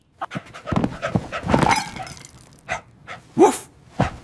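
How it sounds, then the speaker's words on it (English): A dog pants and whimpers close by in a home, with quick breathy huffs, short whiny yips and a few louder bursts spaced irregularly through the moment. "Bad dog. Outside."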